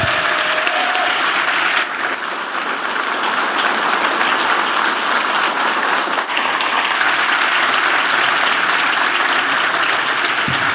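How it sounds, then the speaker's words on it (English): Audience at a panel discussion breaks into sustained, dense clapping that stays loud and even for about ten seconds without letting up. "let's give everyone a huge round of applause"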